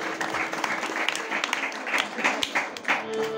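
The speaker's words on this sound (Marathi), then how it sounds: "टाळ्यांच्या गजरात स्वागत होईल" A crowd applauding at a village bhajan performance in Rajapur, with sustained clapping from many hands, moderately loud and continuous, and a steady tonal drone running underneath.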